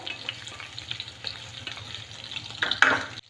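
Soya chunks frying in ghee while being stirred, a soft steady sizzle with scraping stir strokes and a louder bubbling burst near the end, close and alone.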